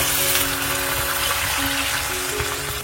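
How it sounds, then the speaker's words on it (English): Water pours steadily into a pot of Bengali fish head curry with rice and fried fish head. It makes a continuous loud gushing wash that lasts the whole moment with no pause, and no one speaks. "Next I'll add in around 2 cups of water."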